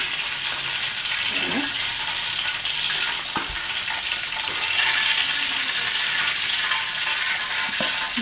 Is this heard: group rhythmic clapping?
no